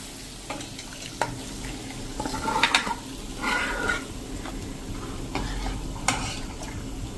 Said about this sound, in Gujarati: તો હવે આપણે દાળનું કુકર અહીંયા ચાલુ કરીને ગેસ અને એમાં આ વઘાર નાખી દેશું